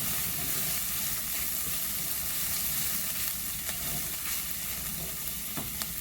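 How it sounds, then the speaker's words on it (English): Ginger and aromatics sauté for Jamaican pumpkin takari with a steady, close sizzle of frying in hot oil. A few faint clicks of stirring come through, with no talking. "Let this saute for a few minutes."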